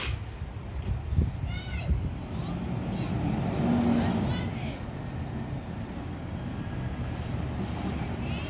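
A garbage truck collects summer yard waste at a house, its engine rumbling steadily with a brief hiss like an air brake partway through, amid low traffic noise and faint voices.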